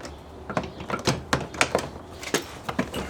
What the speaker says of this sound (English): I'm just going to set the door back on the track.